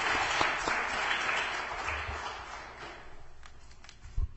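Applause from an audience at a school district governing board meeting, a dense, steady patter of many hands that holds for about three seconds and then thins out, leaving a few scattered claps near the end.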